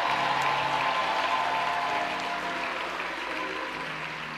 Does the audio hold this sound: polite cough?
no